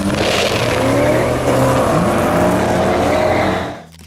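A 1987 Buick GNX muscle car engine revs loud and close, roaring hard with a rising, straining tone for several seconds before cutting off abruptly.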